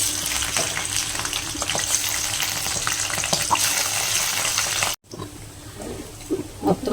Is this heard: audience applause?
no